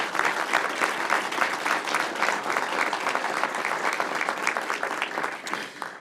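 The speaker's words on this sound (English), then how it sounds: "we owe them a round of applause for their leadership on this" An audience at a Kirkland event for a new crisis response center gives a sustained round of applause, dense steady clapping that fills the room at an even level throughout.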